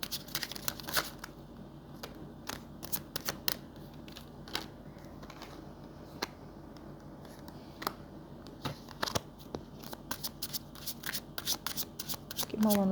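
Tarot cards shuffle and riffle in quick, crisp bursts, soft and close, with irregular flicking clicks continuing throughout and quiet talk faintly beneath.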